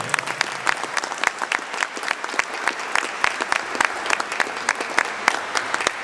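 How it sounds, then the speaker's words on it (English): An audience at a gathering gives itself a round of applause, a moderate wash of many hands with sharp individual claps standing out in an irregular patter throughout. "Give yourselves a round of applause."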